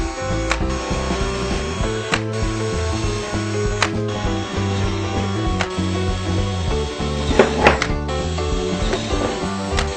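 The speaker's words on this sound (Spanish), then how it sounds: "Hacemos todos los agujeros." A steady, loud mechanical whine with grinding texture runs continuously throughout as a drill bores holes into the base of a wooden box, with no pauses.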